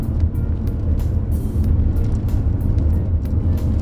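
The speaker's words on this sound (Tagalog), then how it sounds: "yung engine noise kasi, yun, nagki-creep in na dito sa loob ng cabin" Steady, loud engine drone and road rumble inside the cabin of a Mitsubishi X-Force climbing uphill on Sungay Road at about 3,000 rpm, constant low hum throughout with no talk.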